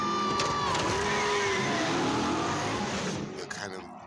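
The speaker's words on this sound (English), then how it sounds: "She's driving her Cuda." A fuel-injected Plymouth Barracuda stunt car with modern brakes and suspension drives past with a steady engine roar and faint tire noise. It is loud and close, and talk runs underneath.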